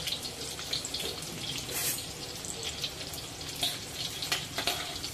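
Garlic and chillies sauté in a pan over a low gas flame, giving a steady close sizzle and crackle with small pops scattered throughout, no voices.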